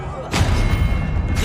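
A Confringo spell blast in Hogwarts Legacy: one sudden, loud, booming burst that hits early and rumbles on through the rest of the short moment amid battle noise.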